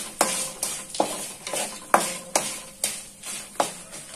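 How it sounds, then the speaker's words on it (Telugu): Dried red chillies frying on low heat in a pan for a flattened-rice tempering, with a spoon stirring in a steady rhythm of about eight strokes over soft continuous sizzle, close and alone with no talk. "తర్వాత ఎండుమిర్చిని కూడా యాడ్ చేసుకోవాలి దానిలోకి. దీన్ని కూడా బాగా ఫ్రై చేసుకోవాలి."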